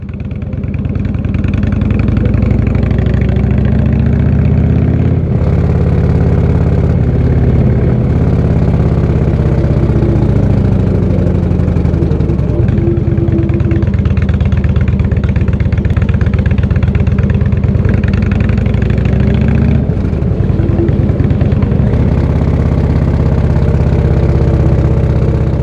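A motorcycle engine drones loudly and continuously while riding a narrow, steep, winding side road with hairpin bends, the revs rising and falling gently through the curves, with no talking.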